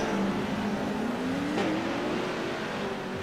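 Simulated race car engine in a sim racing video game, a steady high whine rising slowly in pitch as it runs a lap, loud and continuous with no talk over it.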